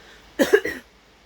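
A single short, close cough, rough and throaty, bursting out of near silence.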